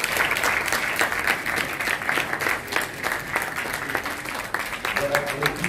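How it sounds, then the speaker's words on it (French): A crowd applauds steadily and densely throughout as participants step onto the stage at the closing cocktail of an innovation event at a tourism forum in Dakar. "Je vous propose de les applaudir à nouveau."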